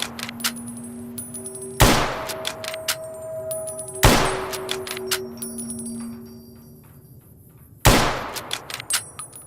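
Three sharp, loud gunshots from the video game Fallout New Vegas ring out at spaced intervals, each with a decaying tail, over a tonal game background.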